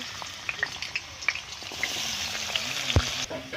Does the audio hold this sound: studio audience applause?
no